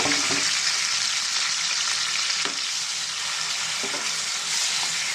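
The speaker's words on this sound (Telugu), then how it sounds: "ఆయిల్ వేడయ్యిందండి దీంట్లోనూ ఉల్లిపాయ టమాటా పచ్చిమిర్చి అన్నీ ఒకేసారి వేసేస్తున్నామండి" Onion, tomato and green chilli fry together in hot oil with a loud, steady hiss and sizzle, broken by a few soft stirring clicks from a spatula.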